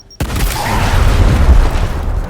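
A frag grenade detonates in a Gears Tactics cutscene, a loud sudden boom that breaks a brief silence and rolls into a long, dense rumble of debris and echo lasting about two seconds.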